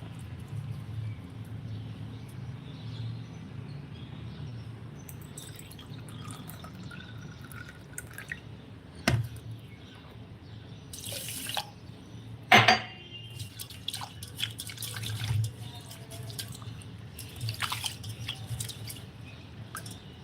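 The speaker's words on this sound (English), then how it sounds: "now let's add quite a lot of water." Water being added to a pot of dal while cooking sambar in a home kitchen, with soft dripping and pouring, scattered clinks of metal utensils and a few sharp pot knocks, fairly quiet and close.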